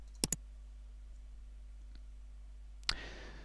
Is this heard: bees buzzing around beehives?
no